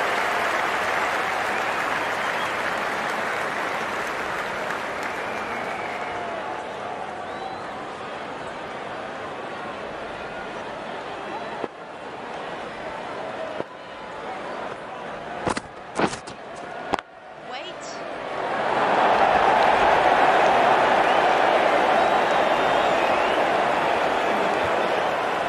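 At a women's T20 cricket match between India and Pakistan, a stadium crowd keeps up a broad, continuous roar of applause and cheering. It dips for a few seconds, then swells loud again near the end.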